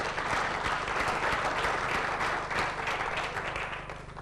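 Audience applause after a startup pitch at an award event, a steady dense wash of many hands clapping at moderate distance, sustained for several seconds before easing slightly at the end.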